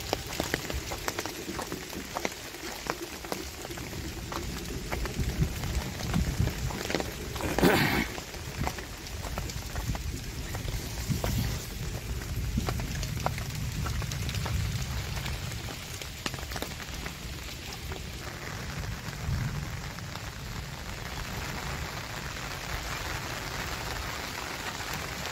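Unseasonal rain pours over Sindhudurg on the Konkan coast, a dense, steady patter of drops on surfaces that continues throughout with no pause.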